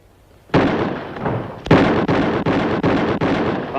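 A rifle fires five rapid shots at a target during a shooting contest, loud sharp reports spaced about half a second apart after an opening blast, each with a ringing tail.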